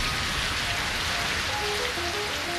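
Gentle spring rain shower in a cartoon yard, a steady hiss of drops pattering on the ground, fairly loud and continuous with faint tonal chimes drifting in near the end.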